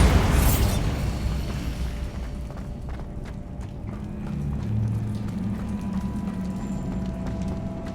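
A Bombarda spell explosion in Hogwarts Legacy, a single loud blast at the start that fades into a lingering rumble, followed by scattered clattering debris and footstep-like thuds.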